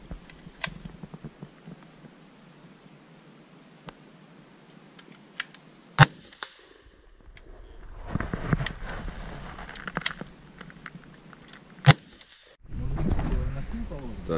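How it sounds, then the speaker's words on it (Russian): Two sharp, loud shots from an M4A1 Bushmaster rifle ring out several seconds apart, with people talking and shuffling noises in between. "Твои впечатления, Вася, по стрельбе из М4, в отличие от калаша?"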